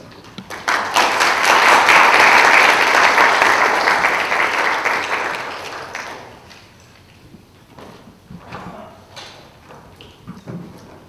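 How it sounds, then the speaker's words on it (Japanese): A room full of people at a film symposium claps loudly for about six seconds, the applause tapering off into scattered faint sounds and quiet. "どうぞ拍手でお迎えください"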